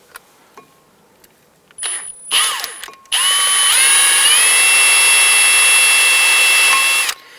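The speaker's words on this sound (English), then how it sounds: "At this point here, we're going to use a drill." A power drill whines up to a steady, loud high-pitched grind for several seconds, boring into the center of a metal ABS wheel speed sensor on a Nissan Rogue, preceded by brief bursts and clicks, then cuts off.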